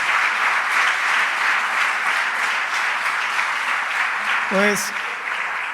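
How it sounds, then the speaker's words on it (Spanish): A church congregation applauds at a sermon, a broad, steady roar of clapping from a large crowd, with a voice briefly speaking over it near the end. "Denle un aplauso fuerte a Él."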